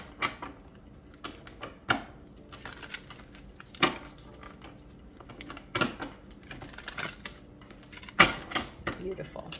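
A tarot card deck being shuffled by hand in a candlelit room, soft papery riffles and taps arriving in irregular bursts, with talk mixed in.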